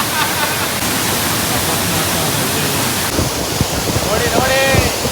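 Bangara Kusuma waterfall at Gerusoppa near Honnavar roars as a loud, steady wash of broadband rushing water, close and constant, with a voice briefly audible over the noise near the end.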